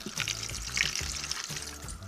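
Water pours and splashes into an Instant Pot pressure cooker for a couple of seconds, soft and fairly quiet, with a light bubbling gurgle.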